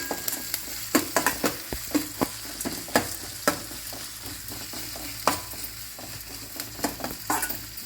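Onions frying in a pan for samba rava kichadi, a continuous close sizzle punctuated by frequent sharp spatula scrapes and taps at an irregular rhythm, with no voices.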